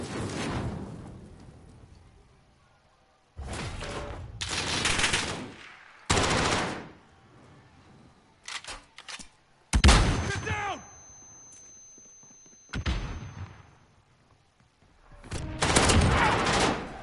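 Gunfire in Call of Duty Modern Warfare comes in several loud bursts of rapid automatic shots, separated by quieter gaps.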